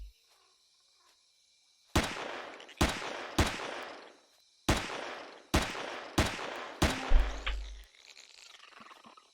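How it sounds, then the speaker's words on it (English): Gunfire in the sci-fi survival game Empyrion Galactic Survival: seven loud, sharp shots with uneven gaps, each ringing out briefly, then a low rumbling tail as the shooting ends. "And that's how you do some shooting"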